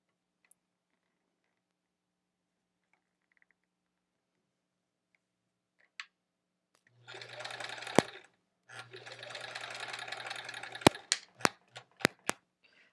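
Sewing machine chain piecing quilt half-square triangles: after near silence, two steady runs of stitching a few seconds long, followed by several sharp ticks and clicks, close and moderately quiet.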